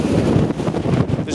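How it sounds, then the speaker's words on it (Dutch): Strong coastal wind at Cabo da Roca, Portugal, roaring and buffeting the microphone in a continuous loud rush. "Maar het waait hier echt knalhard."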